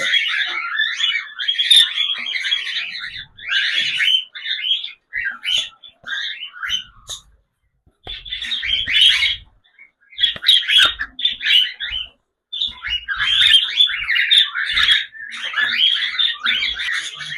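Newly hatched cockatiel chicks chirp in rapid, shrill bursts, close and clear, with brief silent gaps between the flurries of begging calls.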